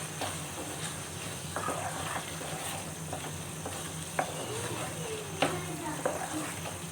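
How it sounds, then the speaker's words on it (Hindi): Green coriander stirred into a sizzling tomato cauliflower curry in a pan, with continuous frying hiss and occasional spoon scrapes and taps close by. "अब मैं इसमें हरा धनिया ऐड कर रही हूँ और अच्छी तरह से मिक्स कर लेंगे"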